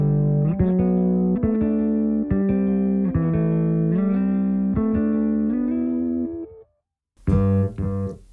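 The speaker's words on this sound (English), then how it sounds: "Let's see, pitch echo." Bass guitar played through a Line 6 HX One pitch echo effect, sustained notes with shifting harmonic pitch layers and echoing repeats that fade to silence before a final loud note returns.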